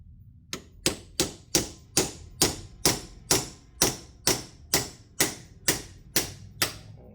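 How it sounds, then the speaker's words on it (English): A ball peen hammer strikes a steel chisel working a small flange on a C50 truck build, about thirteen sharp metallic blows at an even, steady rhythm, each ringing briefly before the next. "So an actual chisel and a ball peen hammer."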